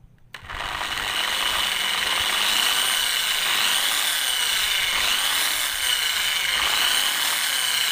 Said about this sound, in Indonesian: Kita bor ya.